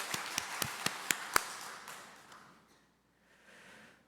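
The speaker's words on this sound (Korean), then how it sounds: "하나님께 영광의 박수 올려드립니다" Church congregation claps in a quick burst of about six sharp, distinct handclaps over roughly a second and a half, then fades into quiet room tone.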